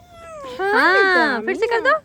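A voice imitates a cat's meow with a drawn-out, wavering, rising and falling cry and a few shorter meows after it. An adult speaks briefly alongside.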